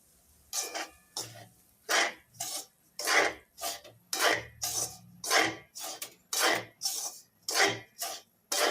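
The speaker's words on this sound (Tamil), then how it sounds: "ரவை இந்த நெய்யோட சேர்ந்து நல்லா வறுபட்டு வரணும்." Semolina is roasted in melted ghee for rava kesari while a spoon stirs it steadily against the pan, making a close, rhythmic series of about a dozen scraping strokes with quiet gaps between them and no speech.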